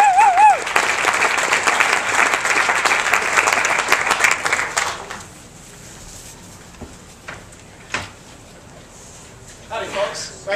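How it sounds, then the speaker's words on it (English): A crowd at a college talent show claps for salsa dancers, a loud dense burst of applause for about five seconds that quickly thins to scattered claps and faint room noise. "Let's give them a big round of applause."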